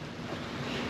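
A sail flogging in steady wind aboard a boat sailed solo at five to six knots between Grenada and the ABC islands, heard as a continuous loud rush of wind and water noise with no speech.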